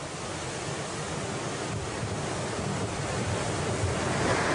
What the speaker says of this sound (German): Aber heute sind die Wellen 10 Meter höher.